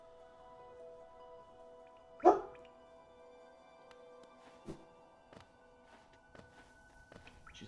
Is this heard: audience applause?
no